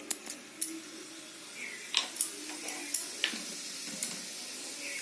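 Nigella seeds temper in a little hot oil in a wok, making a faint, steady sizzle with scattered soft pops and ticks.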